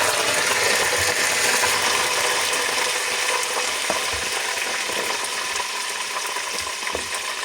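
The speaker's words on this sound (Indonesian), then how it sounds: "nah ini minyaknya udah panas, kita masukkan dulu tahunya." Hot oil sizzles and crackles steadily as tofu fries, with a few sharp pops and clinks standing out.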